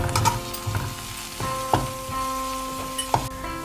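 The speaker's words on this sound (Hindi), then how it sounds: "ये जो चिलीज ली थी ये डाल के इसको फ्राई करना है" Grated ginger and chillies fry in a pan with onions for vermicelli upma, a close, lively sizzle punctuated by several sharp clanks and scrapes of a stirring spoon against the metal.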